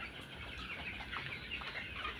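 A flock of twenty-day-old broiler chickens clucks and chirps in a soft, steady murmur that sounds somewhat distant in a poultry shed, with no one talking.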